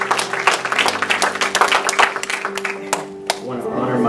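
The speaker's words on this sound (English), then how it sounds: "why don't you clap your hands and thank God for your youth leader." A revival service congregation claps hands loudly in a burst that thins to a few scattered claps, while sustained musical tones hum beneath.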